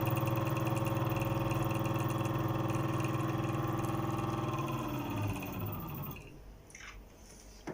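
A 500 W electric torque motor from a kit runs in reverse with a steady, tonal mechanical hum that winds down and stops about six seconds in, leaving near silence.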